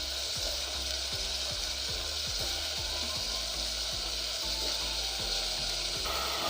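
Lentils and diced potatoes fry together in hot oil with onions, giving a steady, close, loud sizzle with regular scraping clicks as the mix is stirred; no talking.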